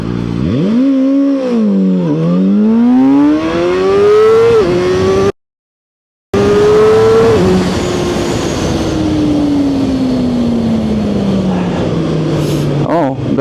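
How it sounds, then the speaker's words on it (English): A ZXJC 500RR motorcycle revs hard and accelerates through the gears on a timed run, its loud, close engine tone climbing and dropping with each shift before it fades on a long pull. "Let's try to rev it up more."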